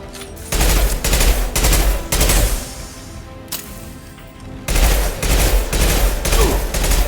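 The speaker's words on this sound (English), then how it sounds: "Firing an impact shot!" Video game gunfire from an impact shot, with dense bursts of loud, close shots in two long volleys separated by a quieter lull of echoing tail, and no speech.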